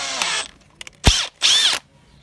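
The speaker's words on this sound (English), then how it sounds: "I'm gonna drill it a few times" A power drill seats a threaded insert for a 12 mm bolt in a mounted bracket: one short zip of the motor, then two louder whirring bursts close up, separated by brief pauses.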